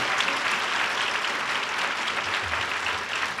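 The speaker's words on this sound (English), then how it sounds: "So please, a round of applause for our veterans of the Secret War" Audience applause for veterans of the Secret War at a Hmong community event, a steady dense clapping from a large crowd that holds evenly for the whole stretch.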